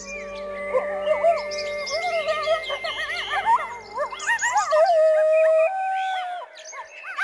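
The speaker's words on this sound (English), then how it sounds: "the howl of the coyote echoes through the montane valleys." Coyote howls ring across a Rocky Mountain montane valley: wavering, rising and falling yips and drawn-out howls from several animals overlap in a chorus, then narrow to a few long sustained notes, moderately loud with no voices.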